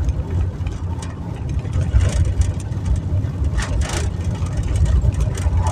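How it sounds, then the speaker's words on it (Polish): A car driving over a cobblestone road through a small Polish town square in Międzylesie, a steady close engine rumble with continuous rough tyre noise over the stones. "Spory odcinek tutaj jedziemy taką drogą z kostki brukowej"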